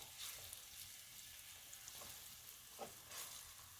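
Pork chops sizzle and crackle in hot canola oil in a pan, a steady broadband fry with occasional louder spits and pops, close and continuous with no voices.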